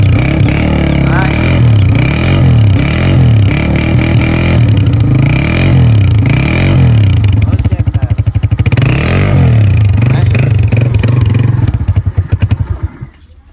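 A 125 motorcycle engine runs loud and close, its revs swelling and falling in repeated waves before settling into a fast, rough idle that fades out at the end, with voices talking over it.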